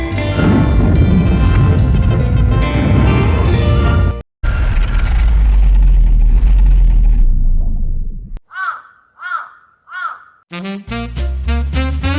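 Bombs burst during an enemy air raid on Port Darwin as a series of heavy, distorted booms over a loud rumble. The blasts come close and fade into smaller separate bursts, with music and harsh newsreel-style noise over them.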